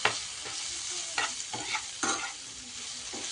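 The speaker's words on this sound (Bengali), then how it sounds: "হালকা একটু দিয়ে দিলাম হলুদ, একটু ভালো করে ভেজে নিলে মশলাতে দিলে পরে ভালো হয়" Turmeric and spices frying in hot oil in a pan for an egg curry, a steady close sizzle broken by several scraping stirs of a spoon, with no voices.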